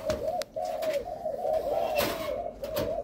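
A pigeon or dove coos repeatedly, close and fairly loud, in a steady run of soft rolling calls with short breaks.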